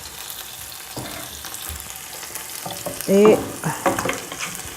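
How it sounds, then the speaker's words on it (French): A small wooden spoon stirs a little oil in a pan, faint scraping and light sizzle at first, then a few louder scrapes and knocks near the end, with one brief spoken word. "Alors, on utilise toujours sa petite cuillère en bois. Je vais y mettre un peu d'huile."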